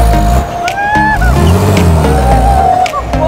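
A large bus that had been buried underground for five months revs its engine hard while reversing, the loud, strained roar rising and falling with sharp squealing tones over the steady engine drone.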